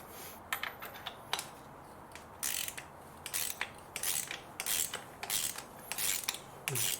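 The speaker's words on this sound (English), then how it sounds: "That shape with a long extension and a ratchet." A ratchet on a long extension works spark plugs loose on a Honda Jazz, producing quiet, short bursts of rapid clicking repeated in separate strokes with gaps between.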